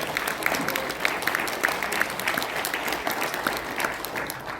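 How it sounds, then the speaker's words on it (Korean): Applause from an audience at a citizens' public hearing on open primaries, steady dense clapping from a mid-sized crowd in a hall, moderately distant with no voices on top. "동의하시면 박수 한번."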